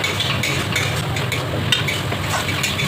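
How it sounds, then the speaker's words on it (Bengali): Ginger and onion paste frying in a pan while being stirred, a steady sizzle with scraping and clinking of a utensil throughout, continuous and close. "এটাকে একটু নেড়ে নেব, নেড়ে কষিয়ে নেব।"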